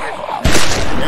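A single sharp gunshot bursts out midway in The Walking Dead Telltale game, loud and close, following a quiet stretch of background noise.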